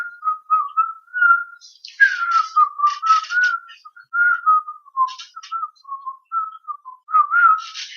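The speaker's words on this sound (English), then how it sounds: "We whistled while we worked." A person whistles a bouncy tune alone, clear and close, in short melodic phrases with brief breaths between them.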